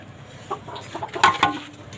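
Backyard chickens clucking close by, several short, uneven clucks and squawks in quick succession over quiet background noise.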